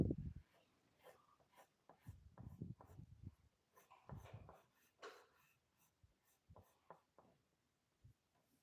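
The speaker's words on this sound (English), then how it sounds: "shade it properly. Make it as dark as possible with your darkest" Dark B-grade pencil shading on paper, soft scratchy strokes in irregular bursts, close and quiet with brief pauses between passes.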